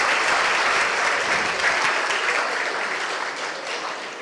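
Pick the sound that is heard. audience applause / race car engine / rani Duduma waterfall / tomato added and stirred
audience applause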